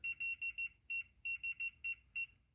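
A turntable's electronic beeps, sharp and high-pitched, come in quick, irregular bursts, close and clear against a quiet background.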